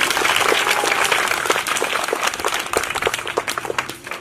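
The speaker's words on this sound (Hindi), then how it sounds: "सब तालियों से मेरी बात का समर्थन करें।" Children clapping together at a school event in India, a dense, sustained round of applause that stays fairly loud throughout and thins slightly toward the end.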